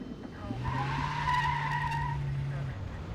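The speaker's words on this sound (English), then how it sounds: "this vehicle who just squealed tires and fishtailed in a very crowded apartment complex parking lot" A car squeals its tires while fishtailing in a crowded apartment complex parking lot, one long steady high-pitched screech lasting about two seconds, fairly loud and close.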